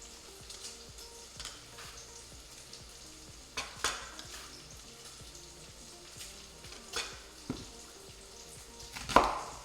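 Onion slices thinly on a handheld slicer in a home kitchen, with a few separate crisp cutting strokes and scrapes, and a louder pass near the end, over a low background hiss.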